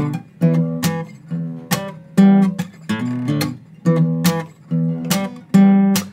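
A slow, deliberate guitar riff of repeated plucked notes in a steady, halting rhythm, played alone and close.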